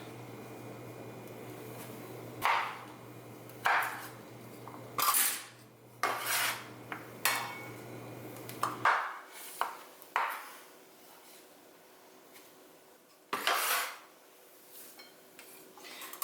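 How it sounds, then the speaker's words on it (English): A knife cuts pears in half and into strips on a kitchen board, giving a series of sharp, irregular knocks and scrapes up close, with quiet gaps between them and no talking. "I'm going to cut these in half down the middle, just because it makes nicer strips of pears"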